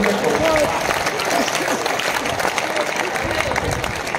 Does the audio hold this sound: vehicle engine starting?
no